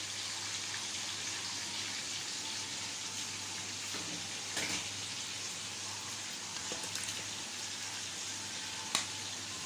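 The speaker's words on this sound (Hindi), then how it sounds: "इसी तरह से सारा चिकन जो है वो फ्राई कर लेंगे।" Chicken pieces fry in hot oil in a karahi for a chicken karahi dish, a constant hissing sizzle that stays even throughout with a couple of brief louder spits.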